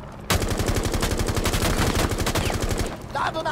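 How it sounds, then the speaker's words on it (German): Rapid automatic gunfire from a Rainbow Six Siege match, a loud, steady stream of close shots lasting nearly three seconds before cutting off, followed by a brief mechanical rattle. "Ich schieße hier mal rum"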